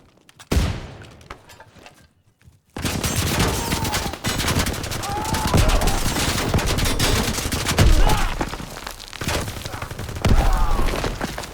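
Heavy gunfire striking a riot shield in a Call of Duty World War II match, a short burst, brief silence, then relentless overlapping rapid shots and impacts, loud and close.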